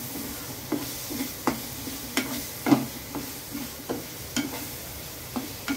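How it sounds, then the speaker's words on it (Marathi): Spiced vegetable curry with cumin and coriander powder being stirred in a kadhai, with a spoon scraping in regular strokes, roughly one every half second, over a low steady sizzle. "छान हलवत राहायचं, नाहीतर कढईला आपण खाली लागू शकते"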